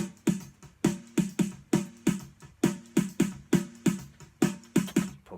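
A steady snare drum pattern built from layered samples with an added bright high-end layer, a quick repeating groove of punchy hits with sharp attacks and short tails, running about a dozen strokes without talk.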